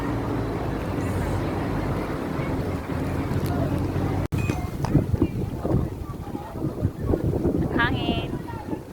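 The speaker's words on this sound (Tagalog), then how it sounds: "Sarap ng hangin." Seaside wind rumbles steadily against the microphone in a strong, continuous low roar, first alone and then under a person talking, with a brief cut partway through.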